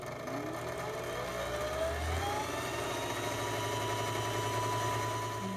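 A sewing machine runs steadily while winding thread onto a bobbin, giving a continuous close mechanical whir with a constant motor hum and no talking.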